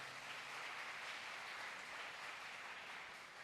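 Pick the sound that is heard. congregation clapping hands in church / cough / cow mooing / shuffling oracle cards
congregation clapping hands in church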